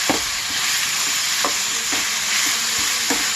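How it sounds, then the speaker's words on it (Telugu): Ginger garlic paste fries in a hot pan, a steady close sizzle broken by several sharp scrapes of a spoon stirring it at irregular intervals, with no talking. "బాగా వేగనివ్వాలి."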